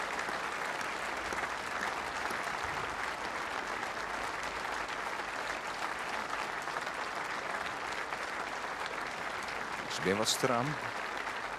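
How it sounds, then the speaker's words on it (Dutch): Steady, continuous applause from the crowd at a 4 May remembrance ceremony in Leeuwarden, holding at an even level throughout, with a voice briefly speaking near the end. "onder groot applaus van alle belutsen en alle meesten hier aanwezig"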